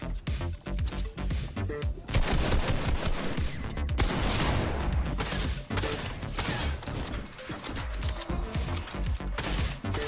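Lever action rifle fire in the video game Fortnite during a frantic fight, with dense, loud cracks and impacts layered over other battle noise, the shots arriving in uneven bursts across the whole stretch.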